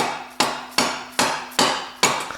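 A rubber hammer strikes a drive shaft on a 2002–2015 Ford with a Duratec engine, five evenly spaced solid thumps, each ringing briefly before the next, close and loud with no talk.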